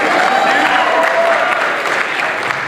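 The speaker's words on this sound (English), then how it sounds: "Give me some applause." Graduating class of 2010 applauding at a baccalaureate service, a dense, loud, sustained wash of clapping from a large crowd filling the room with little change in level.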